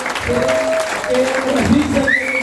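Audience applause at a business seminar, steady clapping throughout, with a speaker's voice and a whistle-like tone carrying over it.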